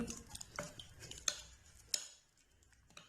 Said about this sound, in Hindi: और 1 टेबल स्पून हम कुकिंग ऑयल डालेंगे और इन सब चीज़ों को अच्छी तरह मिक्स कर लेंगे